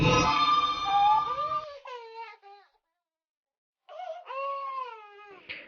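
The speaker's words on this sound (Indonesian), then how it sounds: "sayup-sayup kami mendengar suara tangis bayi baru lahir" A newborn baby's thin wailing cries rise and fall in several drawn-out bursts, the first under other noise, then separated by a silent pause before more cries, used as an eerie horror-story effect.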